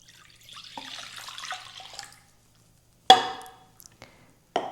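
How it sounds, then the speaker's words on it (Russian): Warm milk pours into a mixer bowl as a soft, close liquid trickle lasting about two seconds, then a few sharp knocks and clicks of the bowl and utensils in a quiet kitchen. "В чашу миксера наливаем молоко."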